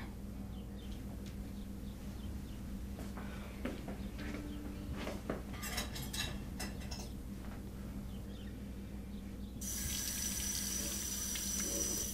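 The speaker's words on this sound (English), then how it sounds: "You can start by doing the dishes for me." Dishes washed at a kitchen sink under a running tap, with a steady low rush of water and scattered clinks of crockery midway, then a brighter, stronger flow near the end.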